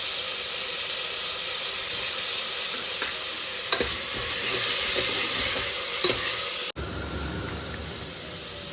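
Onion and field beans (avarekalu) frying in a pan for a village-style dry fish sambar, a steady loud sizzle with scraping stirs throughout and a sharp clatter near the end, with no talking.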